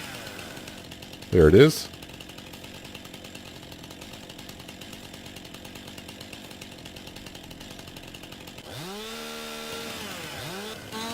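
A chainsaw in the video game Farming Simulator 19 drones steadily and fairly loudly for the whole stretch, with someone briefly speaking over it early on.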